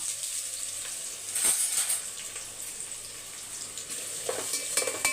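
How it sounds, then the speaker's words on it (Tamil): Three onions sautéing in a pan with cloves for a Sunday fish curry meal, a soft continuous sizzle with a few louder stirring bursts, no voices. "வெங்காயம் பார்த்துக்க வதங்கிட்டு இருக்கோம்"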